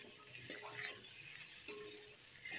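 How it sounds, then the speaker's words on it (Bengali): Potatoes sautéing with salt, turmeric and spices in a pan: a steady hissing sizzle, with a few sharp clicks of a spatula against the pan as they are stirred. No voices. "আমি একেবারে মশলাটা কষিয়েই আলুগুলো দিয়ে দিয়েছি"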